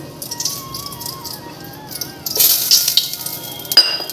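Ghee heats in a large pot for morog polao, breaking into a loud, close hiss and crackle partway through that carries on with rattling bursts, after a quieter stretch with a faint tone.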